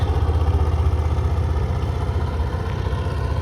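A motor trawler's engine on a river chugs steadily with a low, throbbing rhythm, running continuously and fairly loud with no voices.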